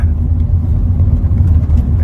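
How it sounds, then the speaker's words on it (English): A 2023 Hyundai i20 IVT Sportz hatchback accelerates with a steady, loud low engine and road rumble that holds evenly throughout, with no voices over it. "And check out that acceleration."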